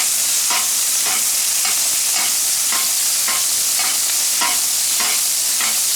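A 36 oz ribeye sizzles loudly and steadily in a pan with garlic pieces, with regular scraping and splashing pulses about every half second as hot fat is spooned over the meat, and no voices.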